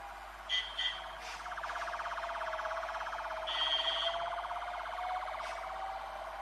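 Ambulance siren wailing steadily at a moderate distance, a continuous rising-and-falling electronic tone with a few brief higher chirps over faint background hum, no voices.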